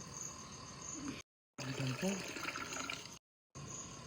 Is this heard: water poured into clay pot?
yes